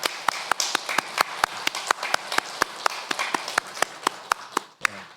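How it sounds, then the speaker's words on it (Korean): A church congregation claps together in a steady, brisk rhythm, roughly four claps per second, loud and full, stopping abruptly near the end. "우리 모두 하나님 앞에 영광의 박수를 들려겠습니다"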